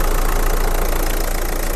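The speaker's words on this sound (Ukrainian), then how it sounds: "Двигун працює добре, ніде нічого не пихтить, не димить." A 2012–2013 Renault Megane's 1.5 K9K diesel engine idles with a steady, even rumble, close and constant throughout with no other sounds.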